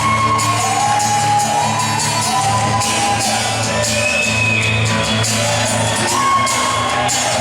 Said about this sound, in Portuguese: eu quero que você dê uma salva de palmas